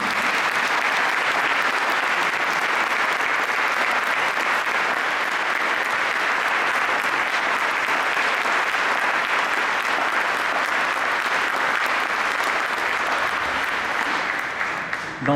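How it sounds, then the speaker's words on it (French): Sustained audience applause at the Prix de la Laïcité 2014 ceremony honoring Natalia Baleato, director of the Babylou crèche; steady dense clapping fills the room for about fifteen seconds before easing off at the end. "Vous pouvez une nouvelle fois l'applaudir"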